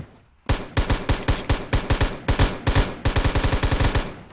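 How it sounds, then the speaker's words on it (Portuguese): Rapid bursts of automatic gunfire in the mobile shooter Knives Out, loud and close, with clusters of sharp shots repeating in quick rhythm across the whole stretch after a brief quiet start. "Dei muito tiro."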